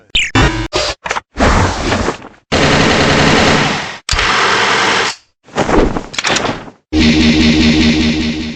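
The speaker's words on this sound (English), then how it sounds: "Two machine gun." Machine gun fire from the arcade game Metal Slug, loud rapid bursts in several separate volleys of differing length with short gaps between, with no voices.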